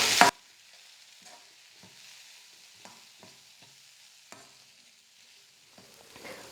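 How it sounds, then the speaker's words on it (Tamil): Masala with chilli powder being sautéed and stirred in a pan: a loud scrape at the start, then a quiet, steady sizzle broken by soft, irregular clicks of a spoon against the pan. "மசாலுடைய பச்சை மணமெல்லாம் போகிற அளவுக்கு நல்லா ஒரு 3 நிமிஷத்துக்கு நான் நல்லா வதக்கிக்கிட்டேன்"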